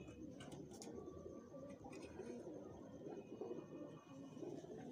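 A caught pigeon gives soft, low, rolling coos that repeat through a quiet, steady background, faint and close, with no talking.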